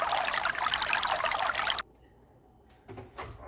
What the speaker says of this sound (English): let's again with the milk. It's okay to pour.